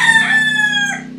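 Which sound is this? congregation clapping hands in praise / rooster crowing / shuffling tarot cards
rooster crowing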